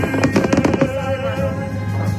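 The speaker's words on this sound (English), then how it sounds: "Here's Donald Trump and Melania Trump watching some fireworks." Fireworks burst in a rapid, crackling cluster of loud pops, then fade into a lingering rumble and distant scattered bangs.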